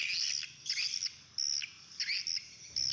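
Recorded swiftlet calls blare from loudspeakers in a residential area, a steady stream of shrill, high twittering chirps in repeating bursts, loud and continuous with no voices.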